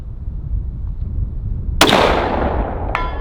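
A single sharp rifle shot fired at a long-range target 200 yards out, loud and close, with a long decaying outdoor echo and a faint second crack near the end; no talk.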